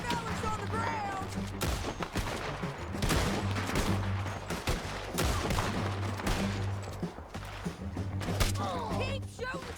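Rapid bursts of gunfire from the video game Red Dead Redemption 2, loud and dense across the whole stretch, with shots overlapping a steady low rumble and people talking over the action.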